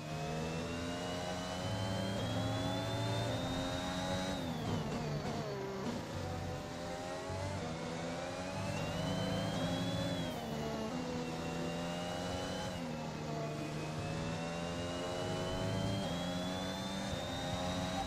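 Formula 1 race car engines in the F1 2021 game scream and climb through gears, a continuous loud revving whine rising and dropping with shifts over the full stretch, no talking.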